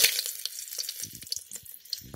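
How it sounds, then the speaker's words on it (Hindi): Onion and green onion leaves sizzle in hot oil as a tadka tempering in a pressure cooker for chana dal. The crackling hiss is close and uneven, with small bursts and stirring noises, and no talk. "तो आज हम इसमें तड़का लगा रहे हैं"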